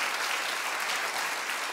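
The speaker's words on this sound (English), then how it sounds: "Clap if you agree with me, and don't do it just because you're here." A studio audience claps together in sustained, even applause that fills the whole moment, dense and steady with no talking over it.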